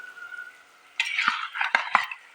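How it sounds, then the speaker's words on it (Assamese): Marinated chicken added to a pan of fried masala, with a quiet start and then a burst of clinks, metal scraping and stirring sounds from a spoon against the pan. "মেৰিনেট কৰি থৈ দিয়া মাংসখিনি দি দিছোঁ"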